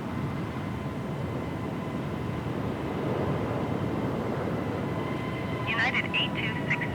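Airliner engines drone steadily through a go-around at Los Angeles International Airport in Microsoft Flight Simulator 2020, a continuous broad rumble with a faint whine and brief radio-like chatter near the end.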